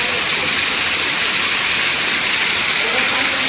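Heavy monsoon rainwater pours off roof eaves in the Konkan, a dense, loud, unbroken hiss of falling water that fills the whole moment without any break.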